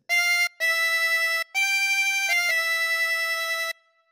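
Phrase three of a theme on harmonica, played as a few long sustained reedy notes with brief gaps between them and a small pitch shift near the end, loud and close with no talking.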